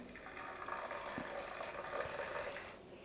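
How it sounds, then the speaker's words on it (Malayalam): Boiling water poured onto oats in a bowl, a steady splashing pour that runs for about three seconds and then fades. "ഓട്സിലേക്ക് തിളച്ച വെള്ളമാണ് ഇത് തിളച്ച വെള്ളം കൂടി ഒഴിച്ചു കൊടുക്കുന്നു"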